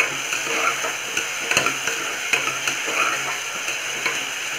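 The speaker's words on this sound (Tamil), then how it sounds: "உருளைக்கிழங்கு போட்ட உடனே அதையும் நல்லா வதக்கணும்." Potatoes sauté in oil for a potato kurma, a close, loud sizzle with rapid scraping and clicking of a spoon stirring in quick irregular strokes, no voices.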